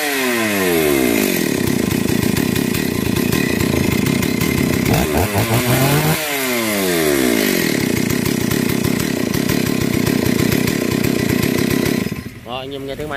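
Stihl MS 381 chainsaw engine running at a steady, loud, buzzing idle-to-mid revving drone, with a couple of brief rev changes before it drops off near the end.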